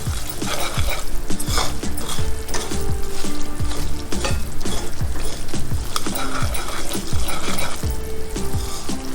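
Semolina cooks in a pan for sooji halwa, sizzling loudly and steadily while a utensil scrapes and clinks against the pan in a repeated stirring rhythm, close and with no voices.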